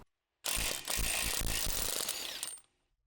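Ratchet wrench turning a CV axle nut off a car hub, a close burst of rapid clicking and metallic rattling lasting about two seconds, then silence.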